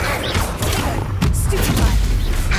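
Incendio fire spell cast during Hogwarts Legacy combat on hard mode, a loud burst with thudding impacts over constant battle noise and a sharp hit midway.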